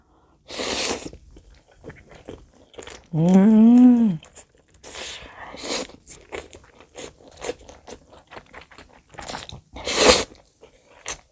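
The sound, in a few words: chewing and crunching food while eating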